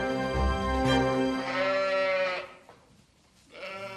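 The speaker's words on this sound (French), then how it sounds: "L'élevage de Flora compte 100 brebis" Ewes on a French sheep farm bleating close by, several drawn-out overlapping calls in a row, with a short quiet gap before another bleat begins.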